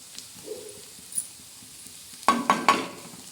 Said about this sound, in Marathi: आता हळद मिरची आणि मीठ टाकलेलं आहे हे चांगलं असं मस्त परतून घ्यायचं